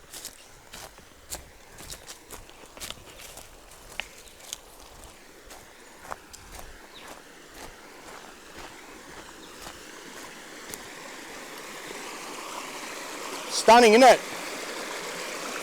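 A river flows past a fern-lined bank in a steady, soft rush, with light footsteps crunching near at hand and a brief voice toward the end.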